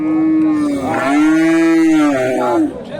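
A pregnant local cow at a cattle market lets out one loud, long, close moo with a dip and a rise in pitch, lasting nearly three seconds.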